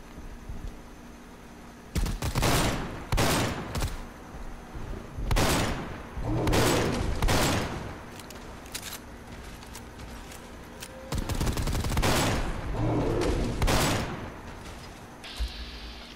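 Gunfire from a weapon in Fallout 4 rings out in several sharp bursts of loud cracks at uneven intervals, with quieter game ambience in the gaps and no talk.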